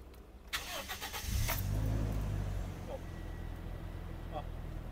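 A car engine is cranked and fires up after repair, a short starter whir followed by a loud catch and rev that settles into a steady close idle, with someone talking briefly.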